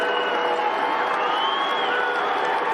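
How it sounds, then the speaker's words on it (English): Large crowd of about 8,000 in the Dome at a Maryland vs Syracuse college lacrosse game, a continuous loud roar of cheering and whoops filling the arena with no break. "How about this massive crowd in the Dome today?"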